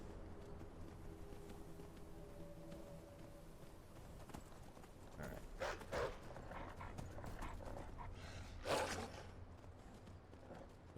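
Steady clip-clop of a horse's hooves passing by with a rider in a video game, moderately close and rhythmic, with faint rustling and other game sounds around it.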